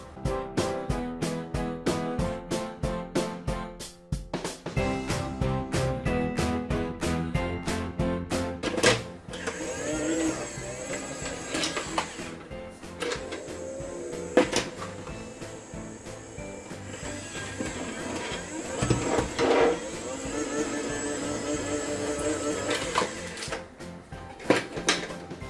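A cheap toy robot vacuum cleaner switches on with a quick run of rhythmic electronic tones, then settles into a thin, buzzing motor whir punctuated by occasional clicks and bumps, close and fairly quiet.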